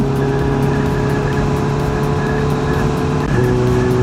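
A loud Kawasaki Z900 2024 motorcycle engine drones steadily at high revs, with a brief dip and pitch drop near the end as it shifts gear without the clutch.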